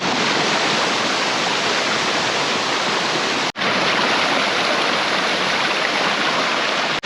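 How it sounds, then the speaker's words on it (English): The waterfall on First Creek in Red Rock Canyon, Nevada, roars as a steady, loud broadband rush heard from just above the falls, with one brief cut midway and no talking. "So this is the waterfall from right above."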